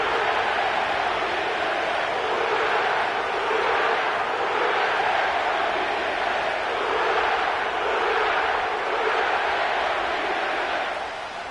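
Stadium crowd noise filling the Caesars Superdome in New Orleans in an EA Sports football video game, a steady, loud roar with gentle swells and no talk over it.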